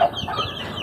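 Baby chick peeping while being given vitamin water, a brief sharp high chirp up close followed by soft background rustle.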